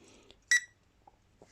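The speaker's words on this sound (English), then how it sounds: "So as it spins, you get the beeping sound and you get a flashing blue light." A sea fishing bite alarm gives one short, bright electronic beep at close range, set against near silence with only faint rustles around it.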